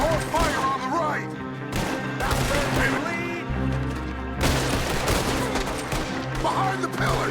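Rapid video game gunfire rattles through a chaotic shootout, with dense bursts of shots, impacts and booms layered over background music and in-game shouting.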